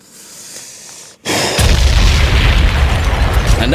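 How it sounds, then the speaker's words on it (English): An explosion sound effect button fires a loud booming blast after a brief quiet gap, then a sustained rumbling roar that stays loud to the end. "Somebody needs to take that explosion button away from Sloth."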